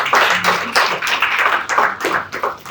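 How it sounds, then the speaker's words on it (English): Attendees at a hotel company's annual general meeting clap for the audit committee in a short, uneven burst of applause with distinct individual claps standing out. "Can we clap for audit committee?"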